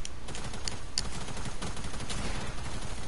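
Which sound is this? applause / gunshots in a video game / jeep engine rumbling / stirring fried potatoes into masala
gunshots in a video game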